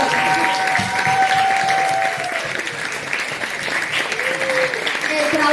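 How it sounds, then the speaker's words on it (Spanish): An audience applauds at a book presentation for a children's saga, steady clapping filling the room while voices carry over it. "¡Un aplauso!"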